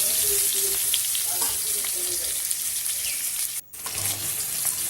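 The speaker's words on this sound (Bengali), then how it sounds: "ইঁচড়গুলোকেও আমি ভেজে নেব। একটু লাল লাল করে ইঁচড়গুলোকেও ভেজে নিতে হবে।" Boiled green jackfruit pieces fry in hot oil in a kadai, a loud steady sizzle that crackles continuously with a brief dip near the end.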